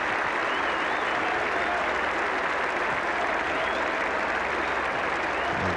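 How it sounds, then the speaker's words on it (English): A big cricket crowd at a 1985 England v Australia Ashes Test applauds a 300-run second-wicket partnership, steady dense clapping and cheering throughout with no break. "plenty for this big edge-busting crowd to cheer about"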